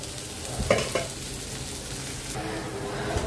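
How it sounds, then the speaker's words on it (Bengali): Onions frying in a pan for a Bengali singhi fish curry, a soft steady sizzle with a couple of brief stirring scrapes near the start, no voices. "তো পেঁয়াজটা ভাজা হয়ে গেছে"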